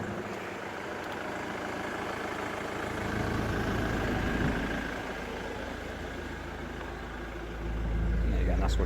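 A Ford Mondeo ST engine running with its exhaust fitted, a steady low rumbling idle that swells slightly in the middle and toward the end, heard up close throughout.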